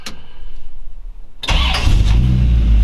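A 1932 Ford roadster with Brookville steel body cranks briefly, then its engine catches at once and settles into a loud, steady, rumbling idle close by.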